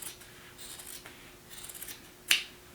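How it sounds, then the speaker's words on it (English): Scissors cutting across jeans fabric: quiet rasping snips through the denim, then one sharp, louder snip near the end, with no voices. "I'm just going to cut across here."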